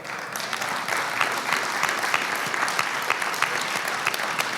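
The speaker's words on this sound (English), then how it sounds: "So give yourselves a better round of applause." Audience applause at the Black Legend Awards ceremony in Silicon Valley: a room full of people clapping steadily and densely, sustained throughout at a constant level.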